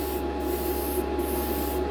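An airbrush sprays enamel paint in a smooth, even hiss that stays steady and close for the whole stretch.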